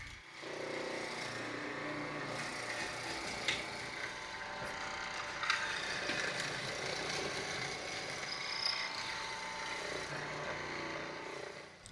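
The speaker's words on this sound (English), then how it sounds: "Then we go to the mortising machine and begin to mortise out where the spokes will fit" A mortising machine cuts spoke mortises into a wooden hub for an 18th-century-style French cannon wheel, a steady loud mechanical drone with chattering and thumping as the chisel works the wood.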